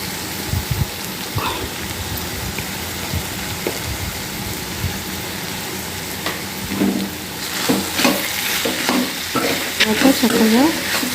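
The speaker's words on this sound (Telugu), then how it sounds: "సాల్ట్ వేసుకున్న తర్వాత కారం వేసుకొని చక్కగా కలుపుకోవాలి" A spoon stirs capsicum curry with salt and chili powder in a pan, sizzling and frying with scraping strokes that grow busier toward the end, and someone speaks briefly.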